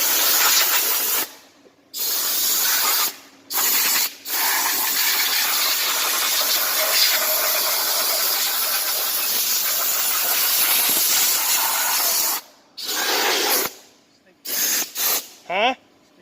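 A pressure washer sprays the engine bay of a 1996 Oldsmobile Cutlass Ciera, a loud close hissing jet that runs in long bursts with several short pauses and quick stop-start blasts near the end.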